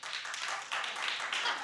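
An audience at an awards-show recap claps in a brief, dense patter of many hands, steady throughout and moderately near, with no voice over it.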